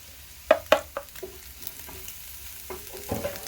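Spices for a goat wet fry are stirred in a hot pan: several sharp utensil clinks and scrapes come up close over a faint sizzle, with no voices.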